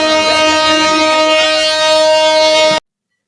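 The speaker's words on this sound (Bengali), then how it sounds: "অবশেষে 4 ঘন্টা ওয়েট করার পরে আমাদের ট্রেন চলে আসছে।" A long, loud, steady horn blast from a train pulling into a station, holding for about three seconds with no other sound before it cuts off abruptly.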